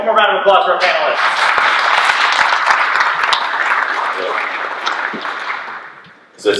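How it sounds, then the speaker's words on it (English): A venture capital panel audience gives dense, steady applause for several seconds, tapering off toward the end, with a voice talking briefly at the start. "one more round of applause for our panelists"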